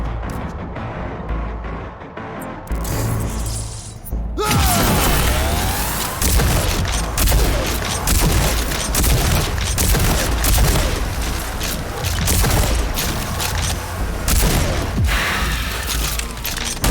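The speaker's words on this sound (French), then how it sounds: "C'est l'overdrive du fusil à pompe contre les ennemis simulés." Shotgun overdrive fire against simulated enemies in the video game Rage 2, loud continuous booming blasts and mechanical clatter that burst in after a quieter opening and keep going close up throughout, with no speech.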